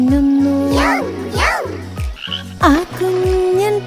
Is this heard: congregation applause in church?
no